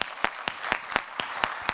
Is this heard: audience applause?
yes